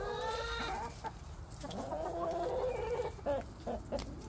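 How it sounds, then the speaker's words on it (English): Broody hens cluck and grumble close by in a low, steady run of short calls with a few sharper notes, heard alone without talk. "Ah, broody hens."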